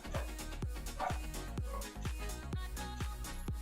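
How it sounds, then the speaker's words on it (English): Dogs barking in the background of a home, a series of regular, fairly faint barks spaced about half a second apart. "Can you hear my dogs?"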